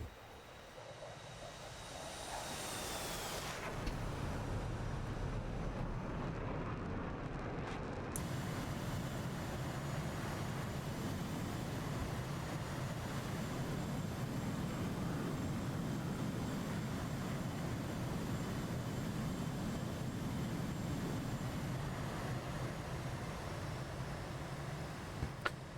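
Airplane engine droning steadily in flight at about 140 knots, a constant broad roar that stays even for the whole stretch, with no talk.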